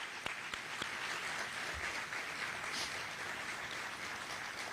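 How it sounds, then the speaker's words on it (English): Faint, distant audience applause at a UF Hamilton School grant event, a steady even wash of clapping heard from afar at low level throughout. "Can we give him a huge round of applause?"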